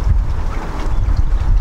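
Wind gusts buffet the microphone outdoors on a wet, dreary late afternoon, a loud, rough rumble that swells and dips without pause.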